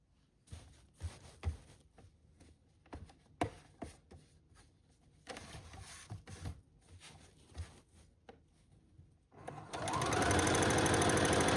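A sewing machine stitching falls onto a saree, running in short uneven bursts with pauses and handling noises between, then settling into a steady, louder continuous whir for the final seconds.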